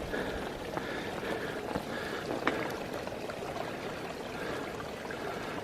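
A small waterfall with low flow on the Mavora Walkway in New Zealand's backcountry gives a steady, soft rush and trickle of water, even and continuous throughout, with no voices.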